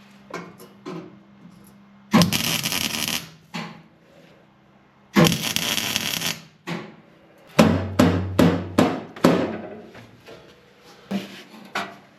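Metal being hammered into place on a homemade mini loader firewall: clusters of sharp, loud ringing strikes, some single and some in quick runs, with quiet gaps between bursts.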